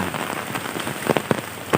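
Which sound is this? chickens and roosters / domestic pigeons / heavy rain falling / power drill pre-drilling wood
heavy rain falling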